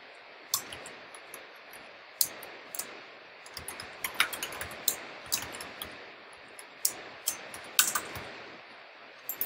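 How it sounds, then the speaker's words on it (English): Typing on a computer keyboard, irregular close key clicks and taps in quick runs with brief pauses, soft and steady over quiet room noise, no talking. "and we type"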